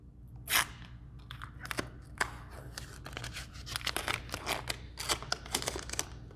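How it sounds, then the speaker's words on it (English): Tape being peeled off the hood of an Aston Martin DB9 during gas strut replacement, a close series of crackling, tearing rips in irregular bursts over several seconds. "So I'm going to remove my tape."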